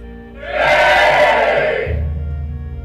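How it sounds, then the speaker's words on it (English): A crowd cheers from 0.5 s, swelling loud and broad, then easing off into a lower, steadier murmur toward the end. "That's the crowd. They're cheering us on."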